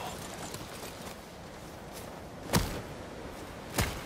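Horse hooves clopping in Ghost of Tsushima, a few faint scattered hoof steps over quiet ambience, then two sharper, louder thuds spaced about a second apart.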